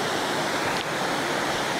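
Cachoeira Casarão, a waterfall, roars as a steady, dense rush of falling water, loud and close, with no voices over it.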